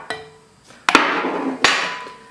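Sharp hammer strikes driving bushings into a BMW ZF320 shifter detent housing on a 328i/M3 gearbox, a few loud close metallic whacks with ringing decay between them.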